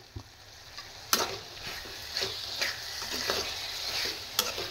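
Eggplant sautéing in a pan for a kathirikkai karuvadu kulambu, with a steady soft sizzle and a few sharp scraping stir clicks spread through, close and fairly quiet, no talking.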